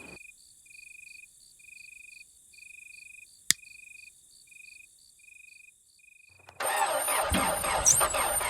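Rhythmic cricket chirps fill a quiet night until an abandoned Ford F100 truck engine suddenly cranks and catches, its loud rough running taking over for the final couple of seconds.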